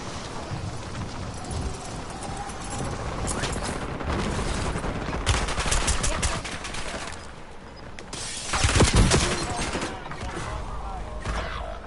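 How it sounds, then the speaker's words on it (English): Explosions from a precision airstrike rumble in Call of Duty Warzone on the Micronesia resurgence map, bursts building mid-clip and peaking in a loud blast near the end, over gunfire and game noise. "Enemy precision airstrike."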